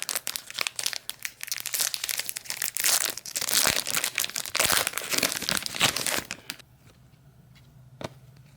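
A sports card pack is ripped open, with loud close crinkling and tearing of foil wrapper for several seconds, then the noise drops to near quiet with one last rustle.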